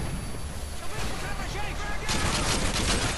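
Gunfire from the FAL rifle's underbarrel shotgun attachment in the Modern Warfare video game: dense, continuous blasts and shooting noise that grows louder and heavier in the second half of the short clip.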